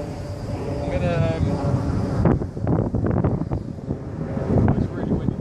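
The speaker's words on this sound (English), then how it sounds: "It's really windy today." Wind buffets the microphone in a steady low rumble throughout, with a person talking over it while flying an RC VTOL aircraft outdoors.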